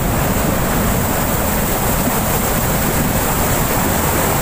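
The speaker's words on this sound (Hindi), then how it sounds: "इतनी स्पीड से पानी आ रहा है" Fast-flowing water rushes through the BRB canal in Kasur with a loud, continuous, dense roar and no breaks, nearby and without any voices.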